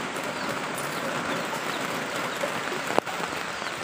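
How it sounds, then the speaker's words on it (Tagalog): Very heavy rain falling steadily as a dense, even hiss with no letup, broken once by a brief sharp knock near the end; no voices. "Napakalakas ng ulan"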